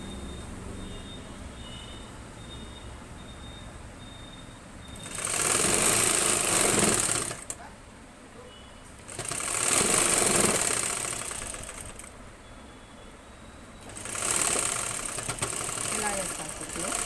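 A sewing machine stitches folded fabric hem in a beginners' tailoring class, running in three loud bursts of several seconds each, separated by quieter pauses with faint background talk.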